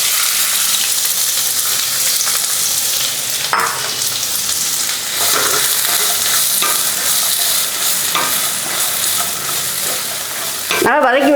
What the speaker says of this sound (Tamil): அதே கடாயில் பிரண்டையை வதக்கிறதுக்கு நல்லெண்ணெய் ஊற்றிக்கலாங்க